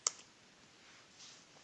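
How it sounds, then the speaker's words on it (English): A single computer keyboard Enter key press gives a crisp, faint click at the start, with a few softer taps near the end in a quiet room. "press enter on my keyboard"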